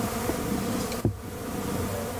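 Stingless bees kept in a high-tech apiary condo in Cascavel produce a steady, continuous insect buzz close by, humming evenly throughout with a brief low thump near the middle and no talking.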